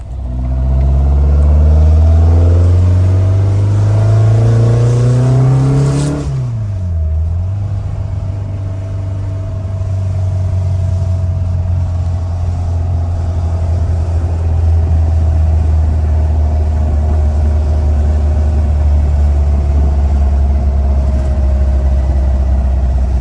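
A 1957 Volkswagen Oval ragtop revs loudly through rising gears, then drops to a steady cruising engine drone after about six seconds, running close and alone.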